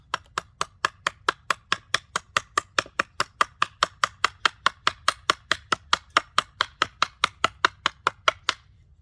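Sharp, evenly spaced chops from a Lionsteel T5 knife biting into wood to make a wedge, roughly four strikes per second, loud and close, keeping a steady rhythm for about nine seconds before stopping abruptly.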